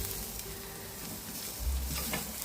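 Jerk chicken pieces turned over in a hot pan, a continuous close sizzle with a few soft scrapes and a heavier thump as pieces are flipped.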